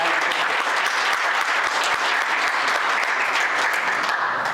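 A full audience at the BizCon 2024 business conference at Kean University applauds a speaker, a loud, continuous wall of clapping that holds evenly throughout with no talk.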